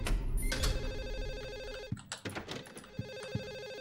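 A telephone rings inside the Silent Hill 4 game, its bright electronic bell repeating over a dense, droning ambient backdrop, with a few thuds breaking in toward the end.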